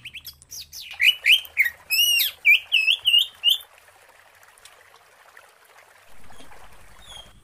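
A young, still-speckled white-rumped shama (murai batu) gives a run of about eight clear, close whistled chirps, then falls quiet over a faint trickling water background before a low rumble enters.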